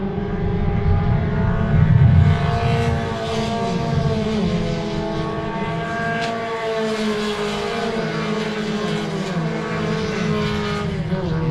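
Race cars lap Carco Raceway with a continuous engine roar, revs climbing and dropping through gear changes as cars pass, loud and close with overlapping engines.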